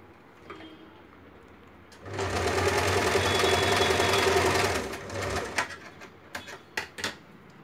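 A sewing machine runs a line of double stitching on salwar pieces, a close rapid mechanical chatter lasting about three seconds before winding down, followed by scattered clicks and handling sounds.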